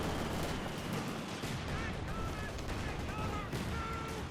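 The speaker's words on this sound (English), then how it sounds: "Bazooka fire again there against Gentlefox's Panzer IV" Bazooka fire against a German Panzer IV in a Company of Heroes 2 multiplayer battle, heard as a dense, continuous wash of battlefield gunfire and blasts with no clear break across the moment.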